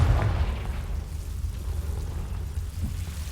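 A Confringo spell blast in the Hogwarts Legacy game goes off as a heavy, booming explosion at the start, its rumbling roar then trailing off into a low, sustained decay with no talk over it.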